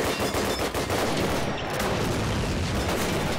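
Dense, continuous gunfire from Call of Duty 1, a steady battlefield din of rapid shots and crackling bursts with no talking.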